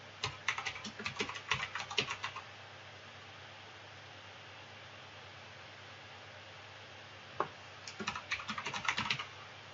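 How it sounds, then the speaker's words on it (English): Computer keyboard typing in two quick bursts of rapid keystrokes, the first in the opening seconds and the second near the end after a single tap, separated by a quiet stretch of steady low room hum. "I'm going to type in"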